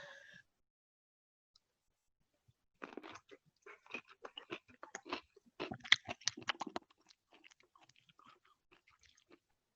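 Someone chews a cashew close up, making quiet, crisp crunches in an irregular series over about six seconds, with near silence before and after.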